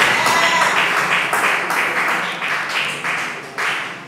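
A church congregation applauds during a French-language sermon, bursts of clapping rising and fading in several waves, fairly close and loud, with faint talk beneath.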